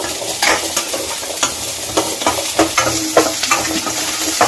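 Onions sizzle in a hot pan with dried red chillies, loud and close, with repeated scraping stirs from a spoon punctuating the steady frying hiss.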